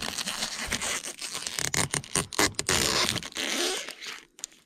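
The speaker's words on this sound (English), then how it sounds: "last step is gonna be to pull the tape off and all the protective film" Protective film being peeled off newly installed offroad lights on a Hyundai Santa Cruz, a close, continuous crackling rip with several short pulls and brief pauses, no talking.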